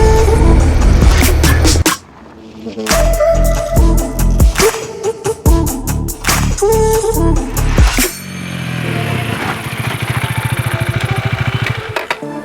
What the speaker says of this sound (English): So I'm gonna jump on the bike, and we're gonna ride into the mountains